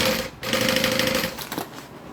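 A sewing machine runs close and fairly loud for about two seconds, joining fabric pieces with a steady mechanical whir and a brief pause near the start.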